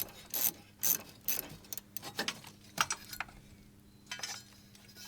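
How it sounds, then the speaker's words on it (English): A ratchet loosens the battery bracket on a Toyota Sienna, producing a close series of quick, uneven clicking bursts with brief pauses between turns. "Next, loosen the other side of the bracket."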